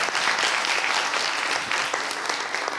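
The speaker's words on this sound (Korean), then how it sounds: "박수 한번 보내주시기 바랍니다" Audience applause at a university talk event in Korea, a dense, steady wash of many hands clapping together for the whole stretch, fairly loud and close with no voices over it.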